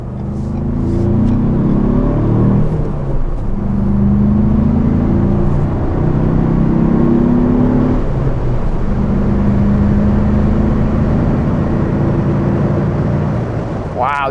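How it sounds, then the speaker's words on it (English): Steady loud roar of wind noise inside a 2022 Ford Bronco at highway speed, with deep engine and road rumble underneath, continuous and close throughout. "Wow, you can really hear that wind noise now."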